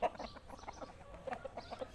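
A Burmese fighting rooster on a Thai gamecock farm gives soft, scattered clucks, several short calls spread across a couple of seconds, faint and fairly close with no talk.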